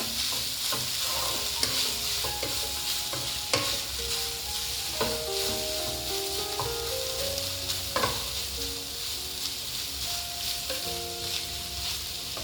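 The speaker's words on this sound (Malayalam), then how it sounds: "ഈ ചിക്കനും കൂടെ കിടന്ന് കുറച്ച് നേരം ഒന്ന് മൂത്ത് വരണം." Chicken and onions fry in a pan for a chicken thoran, a constant dense sizzle under steady stirring, with spoon scrapes and clinks throughout and no talk.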